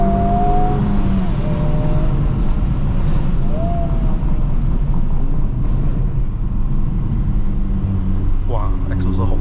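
A stock Honda Civic Type R FL5 engine runs at full throttle on a mountain road climb in Malaysia, a loud steady drone heard from inside the cabin throughout.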